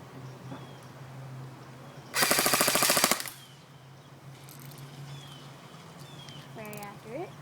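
Airsoft JG M5-S6 rifle firing a loud full-auto burst of rapid shots lasting about a second, with quiet ambient noise and faint bird chirps around it.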